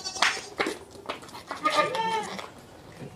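Goats bleat in a pen on a farm, several short overlapping calls close by, with people talking over them.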